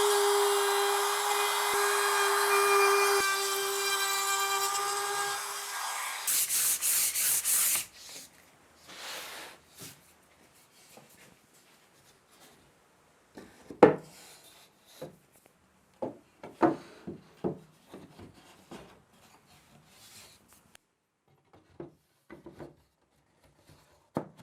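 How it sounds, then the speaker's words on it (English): A power tool whines steadily while cutting slots into plywood planks, then stops abruptly, followed by scattered wooden knocks, scrapes and rubbing as the boards are handled nearby. "Into each plank I'm going to cut a series of slots, which will allow these planks to slot together in a type of a grid formation."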